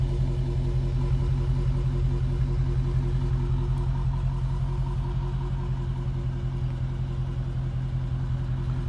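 A brand-new Dodge Charger R/T Scat Pack V8 idles through its large round exhaust tips, a steady deep loud burble with an even low throb throughout and no voices.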